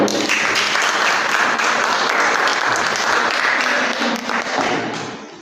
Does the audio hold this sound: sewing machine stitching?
no